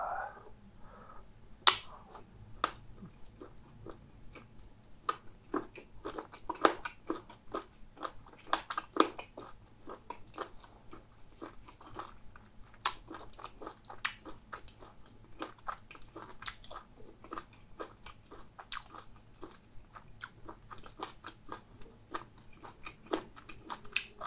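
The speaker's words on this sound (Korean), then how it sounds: "홍어 한번 먹어볼게요" Crunchy skate (hongeo) chewed close to the microphone, with a steady run of sharp, crisp bites and crunches over about twenty seconds and no talking.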